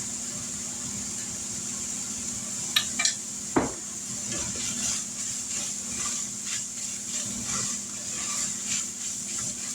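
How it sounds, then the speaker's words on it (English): Taco seasoning being stirred into browned meat in a pan for a Tex-Mex casserole: a steady sizzle runs throughout with a few sharp utensil scrapes and clinks against the pan, close and moderately loud. "Now I'm gonna add about a tablespoon of taco seasoning to the meat."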